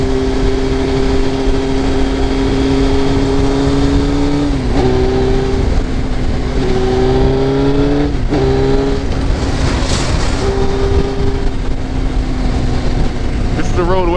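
Dense city traffic heard from a moving motorcycle: steady close engine drone with shifting pitch as the bike revs and changes gear, wind rumble throughout, and passing vehicles around it.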